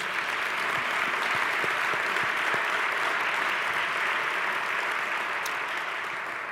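An audience applauds city council members at a Columbus neighborhood community gathering: steady, dense clapping from a full room that holds evenly throughout without letting up.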